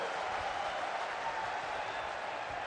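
A crowd at a political welcome event for Narendra Modi applauds in a continuous, even wash of clapping that sounds fairly distant and subdued and holds steady throughout.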